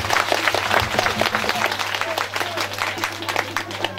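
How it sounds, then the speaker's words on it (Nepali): Applause from an audience at a Srimad Bhagwat Mahapuran religious discourse after a dance, a busy patter of many hands clapping at a fairly steady level, with a low steady hum running beneath. "ताली चाहिँ सबैले एकपल्ट उहाँलाई"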